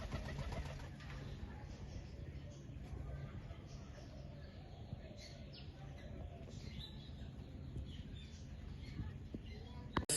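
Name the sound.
pigeons cooing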